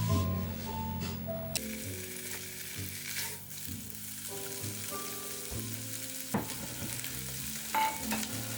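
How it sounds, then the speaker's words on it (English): Chicken and turkey skins and bones fry in a hot skillet just below medium-high heat, giving a steady close sizzle with stirring scrapes, over a faint tonal backdrop that sounds like music. "In a hot skillet, just below medium-high heat, I'm going to add my chicken and turkey skins and then the bones."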